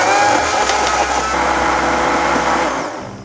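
A blender grinds apple, pear, onion, ginger, whole garlic and chili seeds, a loud steady whirring roar that holds for about three seconds before winding down, with no talking.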